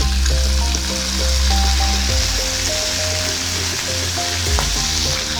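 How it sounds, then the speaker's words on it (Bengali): Bay leaves and whole cumin seeds sizzle and crackle steadily in hot oil in a pan, a close, continuous frying hiss with small pops throughout, no voices. "তেল গরম হতে শুরু করে দিয়েছে, নিয়ে নিচ্ছি কয়েকটু তেজপাতা, নিয়ে নিচ্ছি একটু গোটা জিরে ফোড়নের জন্য।"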